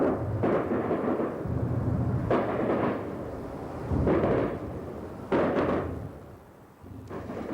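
Air strike explosions in Kalak, Iraq, near the demarcation line between Kurdish-held and Iraqi-controlled territory: four dull, distant booms roughly every two seconds, each a broad rumbling burst over a steady low background roar.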